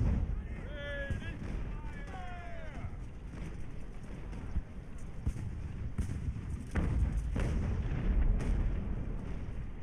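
Mortar fire in Ultimate Admiral: Age of Sail, a naval sailing battle, with deep booming impacts and rumbling blasts rolling through a busy combat din, while someone talks over the opening seconds.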